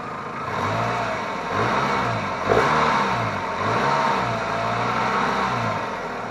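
A 2001 Toyota Camry engine runs after a catalytic converter replacement, its nearby hum rising and falling through several short blips of throttle in a regular, moderate rhythm.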